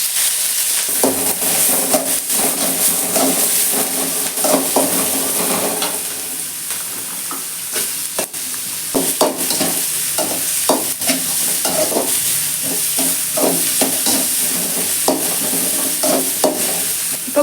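Onions stir-frying in hot oil in a pan for mushroom fried rice, a constant loud sizzle broken by repeated scraping strokes of a spatula, close up and continuous, with no voices.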